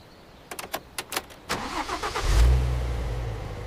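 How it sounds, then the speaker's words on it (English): A car engine cranks in a quick series of starter bursts, then catches and settles into a steady low idle, heard close with no talking. "I am starting the car now."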